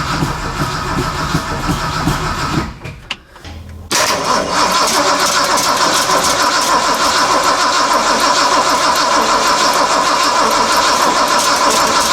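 A junkyard Ford Mustang engine, primed with starting fluid in the carburetor, cranks, dies briefly into near silence, then catches and roars into a loud, steady running idle that continues to the end, close by with no talk.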